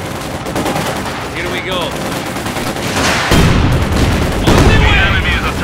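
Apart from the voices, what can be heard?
gunfire and artillery in the video game Company of Heroes 2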